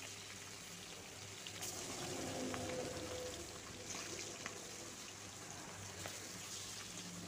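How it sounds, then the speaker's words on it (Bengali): Salted, turmeric-rubbed rohu fish pieces fry in mustard oil in a wok, giving a steady, soft, continuous sizzling hiss with faint crackles throughout. "রুই মাছগুলো এবার ভেজে নেব।"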